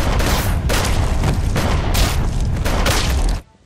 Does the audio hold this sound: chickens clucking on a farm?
no